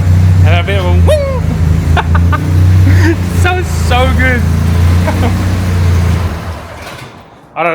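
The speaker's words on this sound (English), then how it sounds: "there's something about supercharged cars. It just sounds so aggressive." Supercharged Evo 1 race car with a swapped M111 engine, its loud, steady exhaust drone running near throughout, with voices talking over it and a brief dip at the end.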